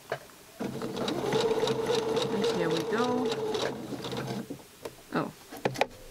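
A sewing machine stitching with the needle down position, a close, steady mechanical hum lasting about four seconds, with a voice speaking over it, followed by a few handling clicks.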